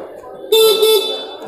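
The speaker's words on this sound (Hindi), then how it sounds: "मैं एक बार हॉर्न बजा के देखता हूँ भाई" Horn of a Hero Maestro Edge 125 scooter: one loud, close, steady electric honk lasting about half a second, over the low hum of the idling engine.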